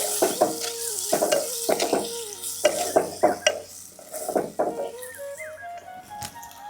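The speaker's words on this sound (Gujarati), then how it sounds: "ડુંગળીને આપણે થોડી શેકાવા દઈશું." Chopped onion with turmeric frying in a pan, heard as a soft sizzle under repeated rhythmic scraping strokes of a spoon against the pan, close and fairly loud.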